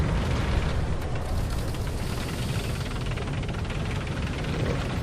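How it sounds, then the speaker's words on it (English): A tank's ammo rack explodes in War Thunder, making a loud, sustained roaring rumble that stays dense and heavy throughout, close up with no pause. "His mistake, and I ammo rack him."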